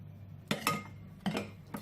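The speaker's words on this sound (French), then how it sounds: "Et là, on mélange bien notre mousse au chocolat." Chocolate mousse being mixed in a bowl gives a few light clinks and scrapes of a utensil against the bowl, three or four soft strikes spaced apart, close and quiet.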